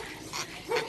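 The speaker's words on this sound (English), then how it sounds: "So many dogs. So many dogs." Dogs bark in short yipping bursts, close and moderately loud, in a brief moment of excited barking.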